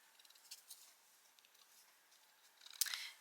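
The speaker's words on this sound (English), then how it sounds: "I'm going to take my little scissors and I'm going to just cut around it." Small scissors snip paper around a bookplate in quiet, close, sparse clicks, ending in a slightly louder cluster of cuts.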